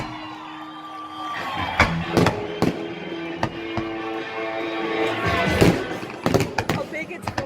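Fireworks exploding at Inn of the Mountain Gods, a run of sharp booms and crackles with an onlooking crowd talking and cheering over them.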